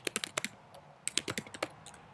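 Quick clicking keystrokes on a computer keyboard, tapped in two short bursts with a brief pause between them, close and fairly quiet.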